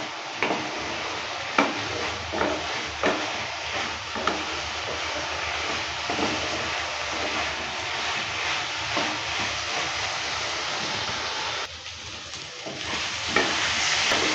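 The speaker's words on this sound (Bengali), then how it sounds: "এভাবে করে কিছুক্ষণ সময় নিয়ে ভালো করে কষিয়ে নেব মশলাটাকে" Spice masala for a prawn and taro curry sautés in an uncovered pan, a constant close sizzle punctuated by rhythmic spatula scrapes and knocks, briefly quieter near the end, with no one speaking.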